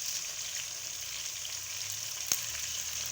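Fresh curry leaves frying in hot oil with browning onions, a steady close hiss and sizzle with a single sharp crackle pop partway through.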